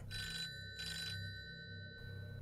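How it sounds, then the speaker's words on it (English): Old landline telephone bell ringing in a camp office at night, two bright trilling bursts with a short gap between them, then a third ring starting, clear and fairly close. "that damn phone would ring."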